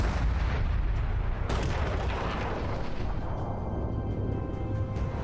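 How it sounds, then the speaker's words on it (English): A ship explodes in a game showcase, a dense and continuous roar of booming, artillery-like blasts with a sharp crack partway through, loud and sustained throughout. "The person playing turned out of the way to not run into the ship as it was exploding."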